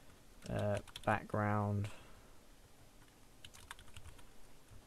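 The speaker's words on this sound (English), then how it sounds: "still can't type on this keyboard" Clicky keystrokes on a computer keyboard during a Slick2D Java game coding session, a scattered run of taps trailing off after someone speaks briefly at the start.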